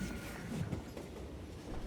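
A train rumbles along in the video game Call of Juarez: Gunslinger, a low continuous rolling rattle with faint rhythmic clatter, steady and fairly quiet throughout with no talk.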